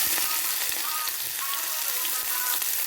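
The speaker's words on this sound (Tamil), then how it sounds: "இப்போ நான் வெந்தயம் போட போகிறேன் கொஞ்சம் வெந்தயம் போட்டுட்டு வெங்காயத்தை போடுவேன்" Fenugreek seeds and onion fry in hot oil, giving a continuous bright sizzle with scattered crackles and pops, close up and steady throughout, with no voices.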